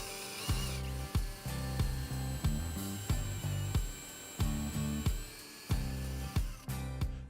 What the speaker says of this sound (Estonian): Ja kui nüüd on kõik augud puuritud